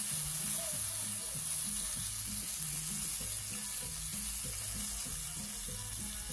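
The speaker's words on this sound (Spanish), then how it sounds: "lo vamos a menear bien" Coconut rice frying in a pan, stirred with a spoon: a steady close sizzle runs throughout with a repeating low scraping rhythm from the stirring, and no voices.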